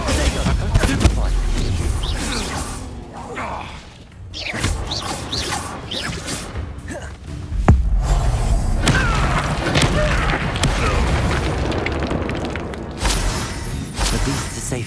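Spell-casting effects in the video game Hogwarts Legacy: repeated booming blasts, thuds and whooshes in quick succession, loud and close, with spoken incantations over the combat.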